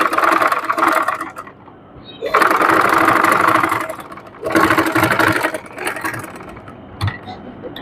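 Sewing machine stitching trouser fabric, a loud whirring motor running in long bursts with short pauses between them, close by.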